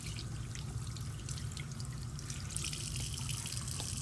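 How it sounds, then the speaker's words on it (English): Tap water runs into a sink while washed hands are rinsed during a nursing hand-hygiene demonstration, a steady close splashing trickle with drips, no voices. "we want to rinse it off in the sink, again keeping it at a downward motion"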